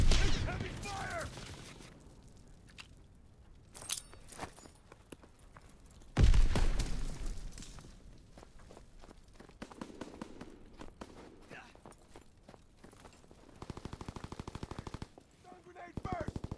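Heavy machine-gun and rifle fire rattles in dense bursts through a Call of Duty WWII battle, with a loud blast near the middle and scattered shots and faint footsteps throughout.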